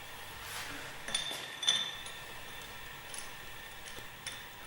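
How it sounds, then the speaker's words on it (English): A socket wrench and ratchet work a left-hand-thread spindle screw on a Westfalia purifier: faint, scattered metallic clinks and ticks spread over several seconds against a low, steady background hum. "Unscrew the spindle screw left-hand thread with fitted gasket using a socket wrench and commercially available ratchet"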